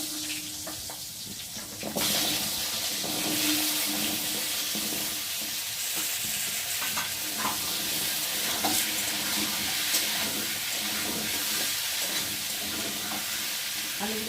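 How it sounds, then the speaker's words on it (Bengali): Cut potatoes dropped into hot oil with whole spice tempering burst into a loud, sustained sizzle after about two seconds, with occasional stirring scrapes close by. "এখন আমি কেটে রাখা আলুগুলোকে ফোড়নের সাথে ভেজে নেব"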